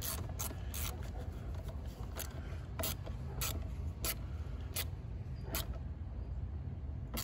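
A ratchet tightens the positive battery terminal on a Volvo XC60, giving a quick series of sharp clicks in irregular bursts over a low hum, close and fairly quiet.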